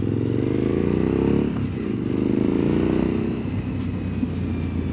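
Suzuki V-Strom 1050 XT motorcycle under way, its engine a steady, loud drone with a brief dip near the middle, heard up close on the ride with no talking.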